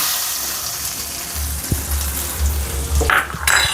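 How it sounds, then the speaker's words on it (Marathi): Tadka tempering sizzles in hot oil for sabudana vada chutney, a steady frying hiss with a low rumble underneath and a couple of brief metallic clinks near the end, with no voices. "हे आता आपण याच्यात तडका मारून देऊया"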